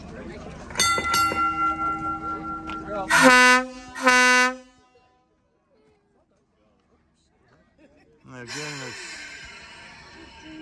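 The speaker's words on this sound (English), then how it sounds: "a little taste of the gong, and then folks, cover your ears, kids, because he's going to blow the horn" An electric train at the Illinois Railway Museum sounds a ringing gong-like tone, then a bright tonal horn in two loud blasts, then quiet, followed by a person speaking.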